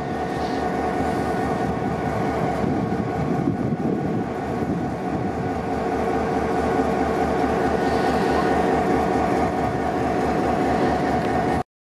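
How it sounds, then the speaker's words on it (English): A diesel locomotive, SP17, shunts two grain wagons at Kensington station with a steady, heavy engine rumble and rolling rail noise, holding loud and continuous throughout. "SP17 with two wagons shunting back"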